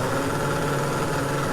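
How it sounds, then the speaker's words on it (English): A spice grinder pulses tea leaves into a fine powder, giving a steady, loud, continuous motor whir that holds level throughout, close and alone with no talk over it. "I do need to pulse it in a spice grinder to get that ground up a little bit, even finer"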